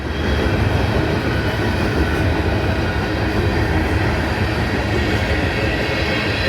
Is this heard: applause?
no